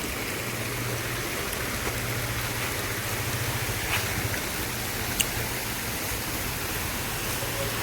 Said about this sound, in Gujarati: ફુવારા ચાલુ છે.